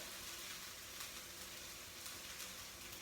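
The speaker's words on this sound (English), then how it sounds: "I'm just going to stir the onions again." Onions sizzling steadily in a hot frying pan for fried rice, a constant bright hiss at close range with no voices over it.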